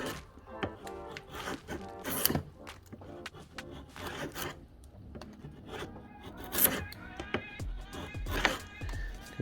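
A wrecking chisel is ground on a sharpening machine, giving repeated rasping, scraping strokes with sharp bursts of grinding noise at an uneven rhythm, close up and moderately loud.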